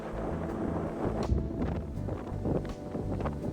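A Lagoon 60 luxury sailing catamaran motors back to the marina off Mallorca at 7.5 knots, with a steady rumbling wash of wind and engine noise and no voices.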